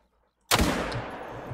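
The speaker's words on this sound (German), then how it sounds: "der Schuss war auch wieder mit Absicht ein bisschen schlechter" A single sharp rifle shot fired during a deer hunt, loud and close, after half a second of near silence, followed by a long rolling echo that decays slowly across the landscape.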